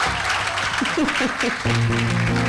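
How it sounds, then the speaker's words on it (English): An audience claps for a band of Edna Manley graduates at a university evening event, a continuous rumble of applause under a voice calling out, followed by sustained electronic tones as the music picks up. "clap them, clap them"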